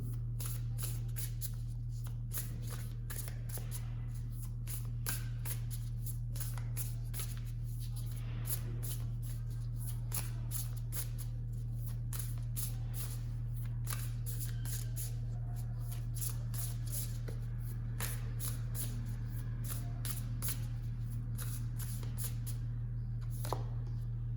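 Tarot cards are shuffled close up in a long, continuous run of quick riffling clicks and snaps over a steady low electrical hum, with no talking.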